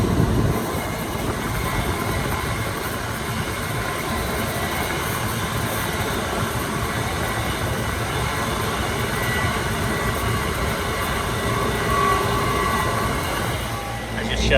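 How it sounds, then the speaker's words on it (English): A walk-in cooler compressor, with an electronic expansion valve system, runs with a rough, steady mechanical drone and rattle that fills the space at constant loudness, and a voice speaks faintly under it. "Compressor don't sound good, man."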